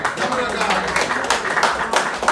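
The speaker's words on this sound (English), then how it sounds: "Let's give a big round of applause to the camera guy." A crowd at a football club's coaching staff presentation claps in a lively burst of applause, steady and fairly loud, with some voices mixed in.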